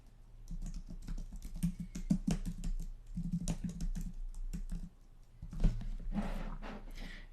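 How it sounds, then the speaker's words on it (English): Rapid, steady computer keyboard typing, close and clear, with clustered keystrokes and a short pause before a louder burst of keys. "you can start typing in the name or the email address"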